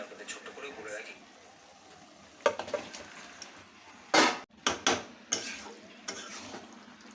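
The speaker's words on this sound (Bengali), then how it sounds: "এটা দিয়ে এবার কষতে থাকবো এবারে আমরা ম্যারিনেট চিকেন দিয়ে দেব" Marinated chicken with tomato masala is stirred and sautéed in a pan, giving intermittent loud scraping bursts and clatter over a faint sizzle, close by, with a voice talking in the background.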